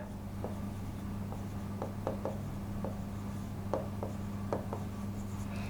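A pen writes by hand, with soft intermittent scratches and short strokes over a steady low electrical hum in a quiet room.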